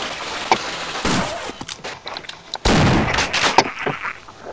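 Gunfire from a pistol in Half-Life, with sharp, loud shots cracking out in a few separate bursts over the game's background ambience and no talk.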